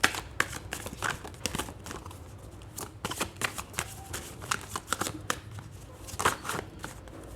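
Playing cards shuffled by hand, close rapid riffles and flutters in repeated bursts with short pauses between them, continuing for several seconds with no talk.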